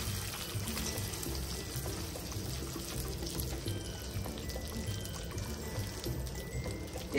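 Water pours into a pan of frying white kidney beans, a steady close splashing and trickling stream that runs continuously at an even level.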